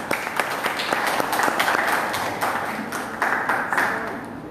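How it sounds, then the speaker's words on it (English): A church congregation at a Sunday morning service claps for a speaker, a modest room-filling patter of hands with a few sharper individual claps standing out across the stretch. "Please give him a round of applause."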